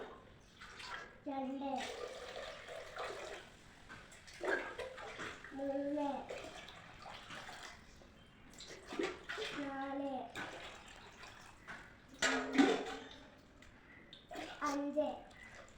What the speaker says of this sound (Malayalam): ഇനി നമുക്ക് വലിയ കുക്കറിൽ എത്ര കപ്പ് വെള്ളം കൊള്ളുമെന്ന് നോക്കാം